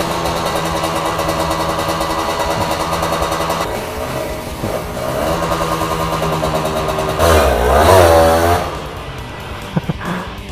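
Kawasaki Ninja R 150cc two-stroke drag motorcycle with an R9 aftermarket exhaust, idling close by with a raspy, buzzing tone, then blipping the throttle into a loud rising rev before settling back down.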